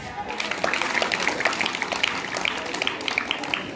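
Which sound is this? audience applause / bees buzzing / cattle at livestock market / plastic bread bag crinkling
audience applause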